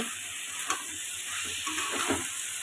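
Cumin and dried chili sizzle as they temper in hot oil while being stirred, a continuous bright hiss broken by a few short scraping strokes, close and fairly loud.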